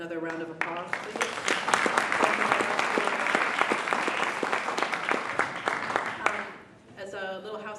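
Sustained applause from an audience fills most of the clip, starting after a voice and fading out as someone begins speaking again.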